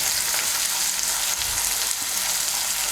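Ginger paste and chopped tomato fry in hot oil for a Bengali fish and potato curry, giving a dense, continuous sizzle with a few soft stirring knocks, close and fairly loud, with no talking.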